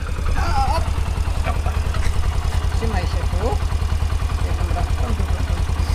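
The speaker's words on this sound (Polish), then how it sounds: "Nadia jedzie na motorze." A Yamaha motorcycle ridden by a young girl idles and putters nearby with a steady rapid low pulse, while people talk over it.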